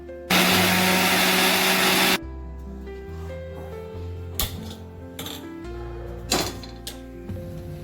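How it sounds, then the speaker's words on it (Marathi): A mixer grinder roars loudly for about two seconds grinding coriander, green chillies, ginger and garlic, then stops, leaving quieter kitchen clatter and knocks. "मिक्सरला ना चांगलं वाटून घेऊ बारीक"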